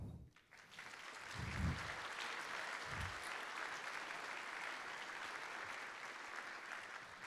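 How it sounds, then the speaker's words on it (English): Sustained audience applause fills a high school band concert hall, a steady wash of many hands clapping at moderate level that holds without break, with a couple of low thumps early on. "Let's give a big round of applause for all the festival folks"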